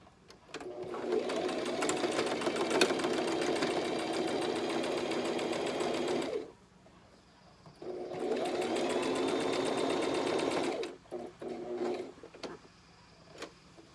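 A sewing machine stitches a fabric face mask in two long, loud, rapid bursts of needle chatter separated by a short pause, followed by a few brief starts and clicks.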